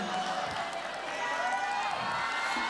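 Concert audience applauding and cheering at a 2019 live show, a steady dense roar of clapping and crowd noise filling the hall throughout.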